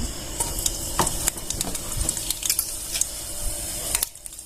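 Green chillies hit hot oil in a kadhai, crackling and popping in sharp irregular bursts over a steady sizzle, close and fairly loud.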